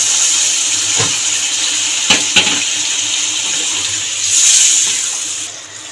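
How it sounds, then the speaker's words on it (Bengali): Warm water poured from a vessel into a pan of rice for a Bengali muri ghonto, a steady splashing rush lasting the whole stretch, swelling briefly near the end, with a couple of small clinks of utensils. "এই জলটা দিয়ে দেবো।"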